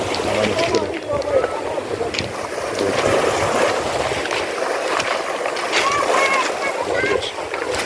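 A fishing boat nears a tropical beach at Nanga Woja as waves wash and splash along the shore, a steady loud surf wash with voices talking over it throughout.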